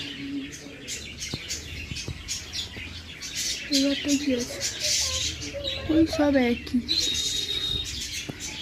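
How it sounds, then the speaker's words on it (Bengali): Small birds chirp at a historic house, with a cluster of short, bright, warbling calls in the middle and lighter tweets around them, heard beneath nearby conversation. "ওই তো পাখি সোনা, এই তো বদ্যি পাখি"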